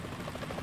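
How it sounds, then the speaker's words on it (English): A helicopter in Metal Gear Solid 2 gives a brief, distant rotor thrum, a low steady chopping drone lasting under a second. "Is that a chopper I just heard?"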